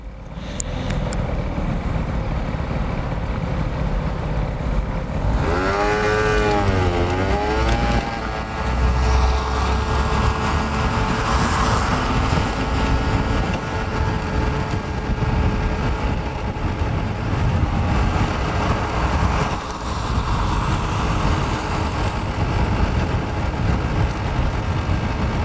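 A motorcycle on a riding-school lesson in Berlin idles at a traffic light, engine droning steadily under heavy wind noise, then revs with a rising, wavering pitch as it pulls away and settles back into a continuous loud road rumble.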